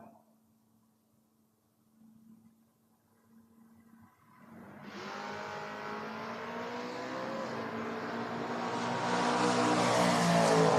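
Camaro-versus-Camaro bracket drag race between two Chevrolet Camaros at a doors-car event: quiet staging hum, then a sudden loud launch into a long, building engine roar that grows stronger as the cars charge down the strip.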